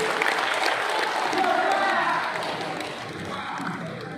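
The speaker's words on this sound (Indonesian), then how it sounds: "Kita berikan aplaus." An audience at an organization's board announcement applauds steadily throughout, a dense, even wash of clapping.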